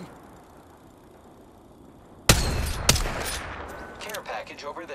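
Gunfire in the video game Apex Legends: after a quiet stretch, a loud close burst of shots erupts, a second sharp report follows, then scattered rapid firing tails off into smaller pops.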